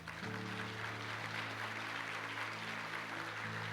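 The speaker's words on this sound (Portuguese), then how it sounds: "Você pode dar um aplauso a Ele?" A church congregation applauds in a steady, dense wash of clapping, with sustained keyboard or organ chords holding underneath throughout.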